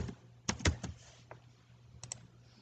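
A zip code is typed on a computer keyboard in a quiet room: a few quick, close key clicks in a short cluster, then a pair of taps after a pause.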